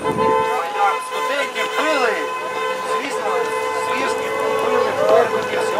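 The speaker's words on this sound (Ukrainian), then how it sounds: "нам знову такі автомобілі сигналять" Car horns honk from passing vehicles at a street gathering in Kyiv, with sustained tones and short toots sounding repeatedly under someone talking throughout.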